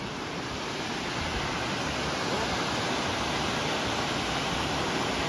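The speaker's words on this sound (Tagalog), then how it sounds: "look at that. Waterfall." A waterfall on a mountain-bike trail near Bass Lake gives a steady, broadband rushing hiss. It is moderately loud and even throughout, with no voices.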